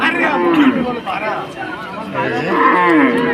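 Cows moo repeatedly at a crowded cattle market, long, loud, drawn-out calls close by, heard under constant chatter and people talking nearby.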